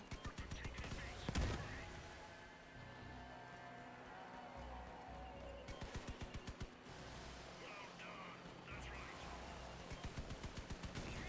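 Rapid bursts of automatic gunfire from a first-person shooter video game crackle in repeated short volleys, some louder and closer than others, with quieter stretches of game ambience between them.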